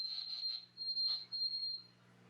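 Recorded bird calls play from a push-button display at a nature center, a steady high whistled tone in several sustained bursts with short gaps, faint and alone over a low electrical hum.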